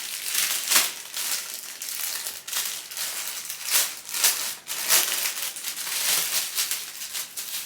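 Packing paper is crumpled while a hanger is unpacked, giving repeated crisp crinkling bursts in an irregular rhythm, close and fairly loud, with no talking.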